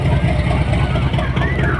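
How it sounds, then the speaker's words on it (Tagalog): A loud engine runs near the port in Dubai, a continuous low rumbling drone with a steady throb and some higher mechanical whine over it, heard close with no pause. "Tindi ng motor oh"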